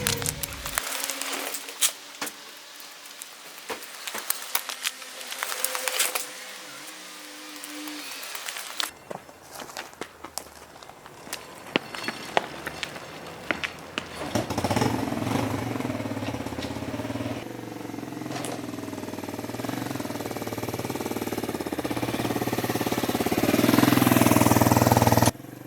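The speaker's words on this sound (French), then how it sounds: "la moto elle a démarré au bout de 3 essais" A Mash motorcycle left unused for five years is cranked with starting attempts, then its engine catches and runs, the steady rumble building louder toward the end.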